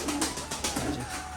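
A female pigeon, part of a newly paired couple, gives soft low coos on a rainy day amid a dense wash of rain hiss and background noise.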